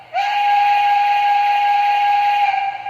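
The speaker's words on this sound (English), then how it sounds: "So that's how you operate the smoking whistle and how you fill it up in this particular locomotive." The smoking whistle on an MTH PRR Mikado model steam locomotive sounds one long steady blast, a bright airy tone over a soft hiss, starting abruptly and holding for more than two seconds before cutting off.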